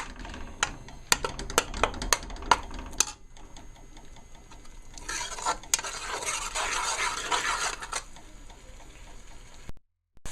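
Shrimp curry being stirred in a pot: quick scraping and clinking spoon strokes against the metal, then a softer sizzling, wet stir, close and moderately loud.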